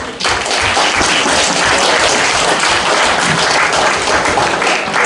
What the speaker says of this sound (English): Let's have one round of applause for all frontline debaters